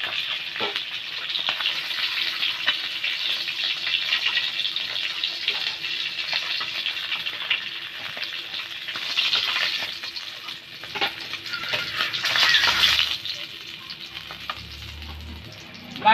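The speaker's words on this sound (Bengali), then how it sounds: "বাকি মাছগুলিও এভাবে ভেজে নেব" Pieces of rohu-type fish sizzle steadily in hot oil in a pan, a continuous close frying hiss that swells briefly a couple of times as they are moved.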